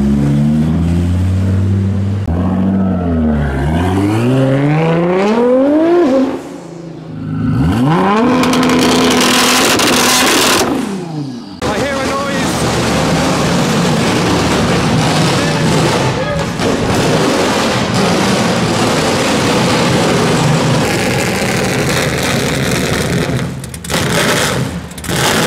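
Loud cars departing the Grimaldi Forum in Monaco, engines revving and pulling away one after another, with rising and falling pitch sweeps as they pass close by, followed by sustained roaring engine noise.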